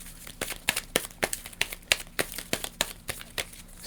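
Marvel Legendary game cards are shuffled close by in quick, rhythmic riffles and slaps, about a dozen crisp papery bursts in a row with no talking.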